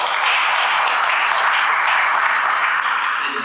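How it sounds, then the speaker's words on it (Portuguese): A crowd at a live comedy talk applauds on request, a dense, even wash of many hands clapping at once, sustained and fairly loud with no voices on top. "Quem tem filho, bate palma."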